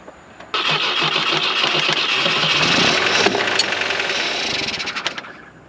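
The engine of a 1967 Volvo Amazon 122S cranks with a sudden start and then catches. It runs as a loud, even, close mechanical churn for several seconds before it sputters and winds down near the end.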